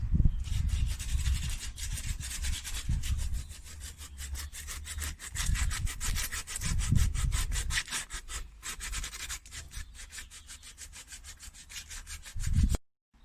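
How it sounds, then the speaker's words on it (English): Steady back-and-forth rasping of sandpaper rubbed over wood by hand, continuous and close, with rhythmic strokes for several seconds before stopping. "now we're having to sand by hand"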